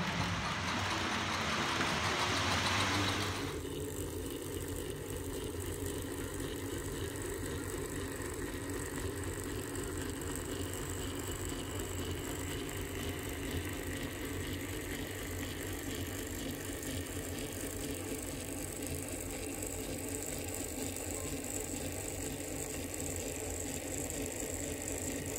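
A Hornby R.150 B12 model locomotive in N.E. livery hauls teak coaches along the track, giving a steady, close mechanical whir and rattle of motor and gears. It starts with a brief louder burst, then settles into an even low hum.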